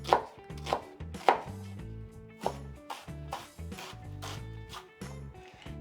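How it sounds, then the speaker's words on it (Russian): A knife slices a peeled onion on a cutting board, giving a series of soft, close thuds and scrapes at an uneven pace, alone without talk. "Лук я почистил пополам. Не до конца прорезаю"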